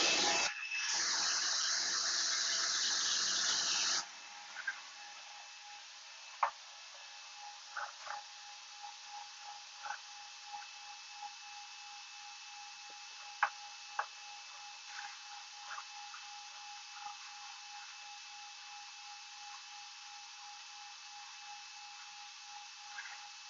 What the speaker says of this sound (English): push the vacuum button in order to activate the vacuum pump, which will hold down the media